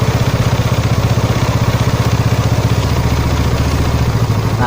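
A Yamaha Mio scooter engine idling during carburetor air screw adjustment, with a close, loud, rapid and even single-cylinder putter that keeps its steady beat with a slight shift in pitch near the end.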